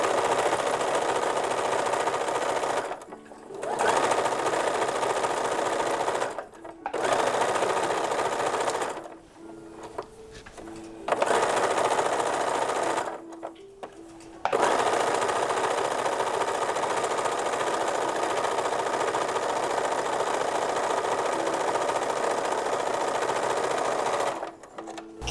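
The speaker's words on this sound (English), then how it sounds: "So I'm doing a narrow 1/4 inch seam first." A sewing machine runs a narrow quarter-inch seam on a 1930s-1940s infant slip. The fast, even whirring buzz is loud and close, running in long stretches broken by several short pauses, with no talk.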